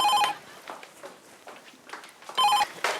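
A telephone rings in two short, bright electronic bursts, one at the start and another near the end, with faint background noise and a few soft sounds between the rings.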